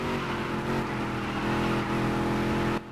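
A NASCAR race car engine in a dirt-to-Daytona racing video game drones steadily at high revs, a dense, sustained roar with subtle pitch shifts as it moves into a sluggish fourth gear, cutting off abruptly near the end.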